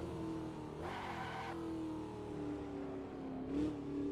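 A car being drifted revs its engine in a sustained droning whine that rises and falls, with two bursts of tire skidding and squeal cutting in, the second one shorter and near the end.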